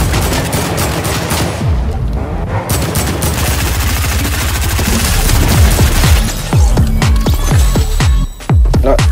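Dense video game gunfire rattles almost without pause, bursts of automatic fire and booming shots layered over a low throbbing hum, loud and close throughout with a brief drop near the end.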